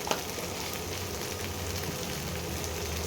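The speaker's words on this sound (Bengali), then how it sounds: "এবারে মশলাগুলোকে ভালো করে কষাতে হবে।" Coriander and cumin powder sizzle and fry in a hot pan, a steady, close crackling hiss that runs on with no pause and no voices.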